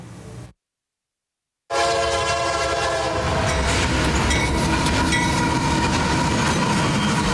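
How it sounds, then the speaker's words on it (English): A train rumbles in at the Mertztown train station after a brief silence, its loud horn blaring steadily over the heavy, continuous roar of wheels, close and building. "listening to the escalating rumbles and blares from approaching trains"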